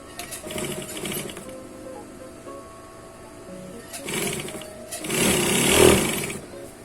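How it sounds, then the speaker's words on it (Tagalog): A sewing machine stitches curtain fabric for a double panel curtain with valance, running in short bursts that build to a louder, steadier run near the end, with faint background noise between. "Dito tayo magtatahi, huwag doon sa may butas-butas na edging ng tela."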